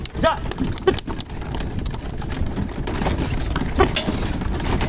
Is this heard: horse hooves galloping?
yes